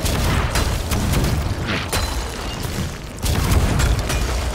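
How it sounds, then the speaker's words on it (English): Cannons boom repeatedly in a video game battle, a dense, loud barrage of overlapping blasts and thuds with no pause, heavy low rumble throughout. "hearing all these cannons go off"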